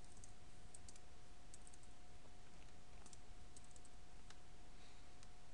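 Faint, scattered keystrokes tap on a computer keyboard as a root password is entered during a CentOS Linux setup, sparse quiet clicks over a low steady hum.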